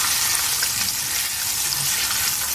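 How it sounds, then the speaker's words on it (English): Floured, seasoned onions fry in hot oil for a burger dish, a dense and steady sizzle that crackles close and loud throughout, with no voices. "So they're frying up pretty good."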